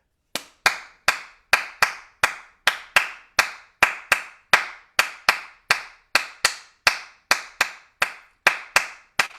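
Sharp, close hand claps repeat in a steady rhythmic pattern, about two per second, alone with no other sound.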